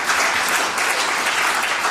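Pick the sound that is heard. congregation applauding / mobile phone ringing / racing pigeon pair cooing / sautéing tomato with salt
congregation applauding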